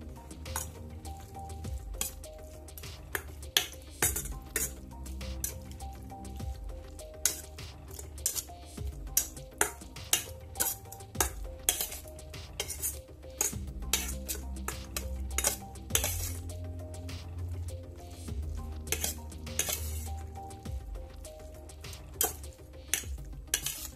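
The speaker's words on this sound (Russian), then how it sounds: "И все тщательно надо будет перемешать, чтобы все куски были красные." Red maggot bait being stirred with a little water in a container, producing continuous wet scraping and clinking of a utensil against the sides, close and fairly loud with irregular rhythm.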